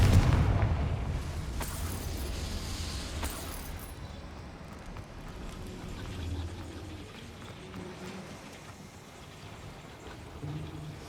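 A Confringo blasting spell from Hogwarts Legacy goes off in a deep, rumbling burst at the start, then fades into a low, steady background rumble.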